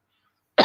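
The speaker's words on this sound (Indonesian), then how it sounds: "Batuk saya" A single short, close cough bursts out after near silence, cut off at the end.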